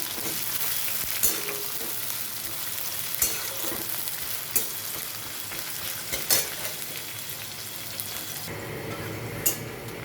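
Bay leaf and chopped onion frying in mustard oil in a wok, a constant hiss of sizzling broken by periodic knocks and scrapes of a spoon stirring, about six distinct taps over the span, with no voices.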